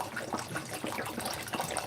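Water splashes and gurgles steadily into a container nearby, a continuous moderate pouring sound with no voices.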